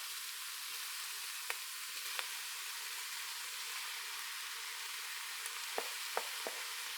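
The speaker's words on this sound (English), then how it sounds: "I'm going to get the ground beef in there next and get it all broken up in there" Ground beef browning in a pot for one-pot chili, giving a steady faint sizzle throughout with a few brief sharp spits and pops, no talking.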